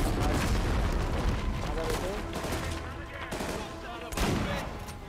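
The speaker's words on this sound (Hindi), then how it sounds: "शॉटगन चला मैं शॉटगन" Repeated shotgun blasts and surrounding gunfire in the Uncharted 4 video game, loud booming bursts layered over dense game effects, with an excited voice talking over the action.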